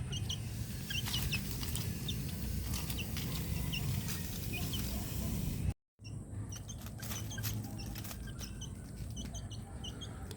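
Hens cluck softly in short bursts amid a busy scratching, pattering background, with a brief drop to near silence midway.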